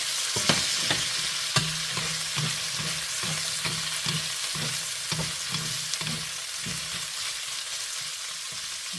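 Cabbage frying in a pan, a steady bright sizzle broken by regular sharp clacks of stirring, close up and with no talk.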